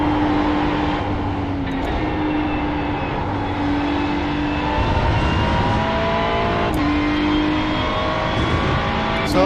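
Race car engine lapping Le Mans in a sim racing game played with Heusinkveld pedals, a loud steady drone with pitch climbing through the gears and dropping at upshifts and braking, continuous with no talk.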